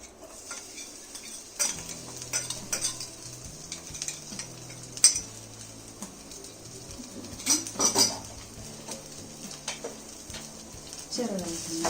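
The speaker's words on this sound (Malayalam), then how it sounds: "ബാക്കി ഇഞ്ചി പച്ചമുളക് എല്ലാം ചതച്ച് വെച്ചത് നമുക്കിതിലേക്ക് ഒന്ന് ഇട്ട് കൊടുക്കാം" Crushed ginger and green chilies tipped into a pan and stirred, with a spoon scraping and clinking against the metal in irregular bursts, a faint sizzle and occasional talk underneath.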